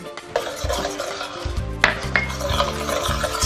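Dijon mustard cream sauce with heavy cream and sour cream being stirred in a pan, continuous scraping and swishing with a few sharper utensil knocks against the pan, close and fairly loud, no voices.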